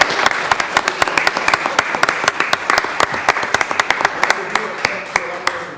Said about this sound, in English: Please, let's give him a big hand, him and his wife.